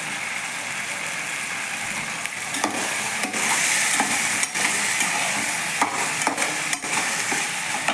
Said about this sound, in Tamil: வதக்கிட்டோம் வதங்கி இப்போ கத்திரிக்காய் வதங்கட்டும்